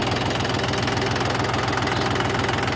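A tractor engine runs steadily while the tractor turns without braking, a loud continuous mechanical drone with a rhythmic low knocking pulse throughout, close by and with no talking.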